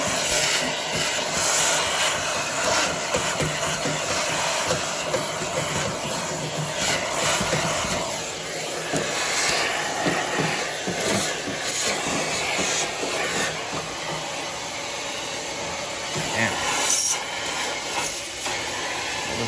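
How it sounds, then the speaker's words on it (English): A soot vacuum runs on a carbonized Weil McLain boiler, a steady loud rushing whoosh of suction close by, varying slightly as the nozzle moves, with no talk. "Time to start vacuuming. There's my soot vac."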